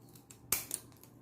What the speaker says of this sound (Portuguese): pode usar a tesoura, qualquer tesoura